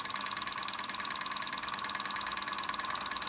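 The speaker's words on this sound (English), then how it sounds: "get a good view of the engine running at speed" A Weeden No. 14 model steam engine, fired by one solid fuel tablet in a burner tray, runs at speed with a steady, fast mechanical chuffing and whir, close up and fairly quiet, with no talking.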